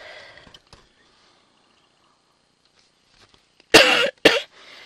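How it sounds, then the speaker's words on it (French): Two harsh, close coughs burst out in quick succession after a near-silent stretch, followed by a softer breathy sound. "Alors, je tousse encore un peu."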